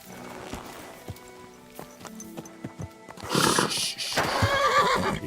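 A horse in the medieval video game Kingdom Come: Deliverance II whinnies loudly near the end, after a stretch of quiet hoof clops and scattered clunks.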